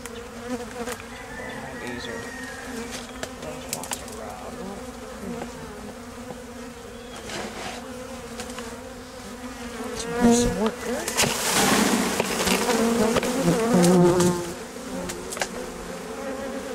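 Honeybees buzz steadily and close during a no-kill hive removal, a dense droning hum that swells louder for a few seconds before settling, with faint talk beneath.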